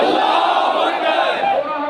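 A large crowd at a public religious gathering roars the Allahu Akbar chant in unison, a loud sustained mass of voices that swells and holds for the whole moment.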